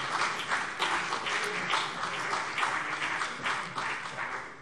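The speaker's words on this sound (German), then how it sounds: "Applaus" Applause in a parliamentary plenary session, sustained clapping from many hands in a large chamber, steady and moderately loud for several seconds with slight surges.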